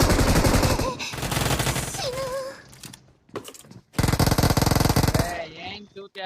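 Rapid automatic gunfire from a battle royale mobile shooter game, loud bursts of machine-gun fire with brief gaps and short quiet stretches, close and dominant throughout.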